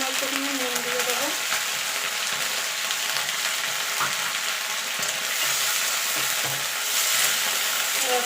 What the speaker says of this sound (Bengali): এটাকে একটু নাড়াচাড়া করে ভাজা ভাজা করে নেব